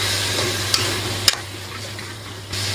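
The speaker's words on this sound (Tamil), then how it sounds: "இது கூட கட் பண்ணி வச்சிருக்கிற உருளைக்கிழங்கு, ஊற வச்சு எடுத்து வச்சிருக்கிற காராமணி 2த்தையும் போட்டு நல்லா மிக்ஸ் பண்ணிக்கலாம் மசாலாவோட சேர்த்து" Potatoes and soaked black-eyed peas are stirred into masala in hot oil, a close, steady frying sizzle broken by a couple of sharp spoon-on-pan knocks.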